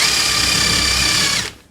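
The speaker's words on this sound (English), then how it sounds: "Get your drill" A power drill bores through a board into hardwood, giving a loud, steady high-pitched whine that holds for over a second before cutting off abruptly.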